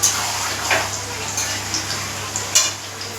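Chicken meat frying in oil seasoned with whole garam masala, giving a steady, even sizzle with a few scraping stirs of a utensil against the pan.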